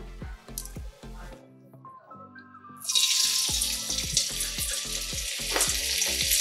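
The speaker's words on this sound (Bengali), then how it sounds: "এইভাবে চুবিয়ে ভাজাগুলো ভেজে নিচ্ছি" Rice in a strainer dunked into hot oil breaks into a loud, dense hiss partway through, after a quieter opening. Rhythmic background music plays underneath throughout.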